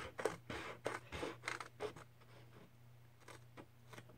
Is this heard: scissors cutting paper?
yes